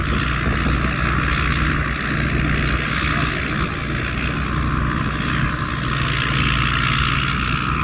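A combine harvester works a field, its heavy engine and machinery making a loud, constant, close rumbling drone with a faint whine above it throughout, with no voices.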